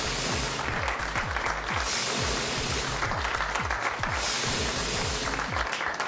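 A crowd applauds the PSPC poker champion at the final table, steady dense clapping that holds throughout with a low, rhythmic musical pulse beneath it.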